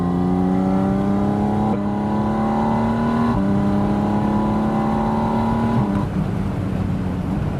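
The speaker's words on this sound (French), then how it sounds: "Écoutez-moi ce bruit d'admission." Porsche Spyder RS engine intake roaring loud and close from inside the cabin while accelerating, with rising tones through several gear changes and brief dips at each shift.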